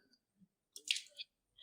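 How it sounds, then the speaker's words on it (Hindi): Water drawn into the nose and blown back out during wudu: a few brief, soft, wet squishing and sniffing bursts close by, separated by quiet gaps. "छोटी उंगली से इस तरह नाक को साफ करके पानी को खींच लेंगे, बाहर फेंक देंगे"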